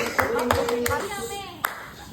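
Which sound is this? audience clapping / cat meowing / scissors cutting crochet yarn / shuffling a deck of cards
audience clapping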